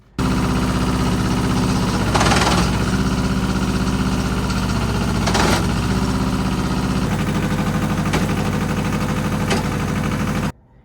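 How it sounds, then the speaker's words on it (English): Yanmar 2210 tractor running with a failing four-wheel drive: a steady, close engine drone with a knocking vibration, broken by a few recurring harsh grinding, stripping bursts. "four-wheel drive just crapped out. Like, it started making this stripping sound"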